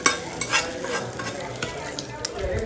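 Beef frying in a pan in a village kitchen, with continuous close sizzling and scraping stirring strokes, fairly even and without speech.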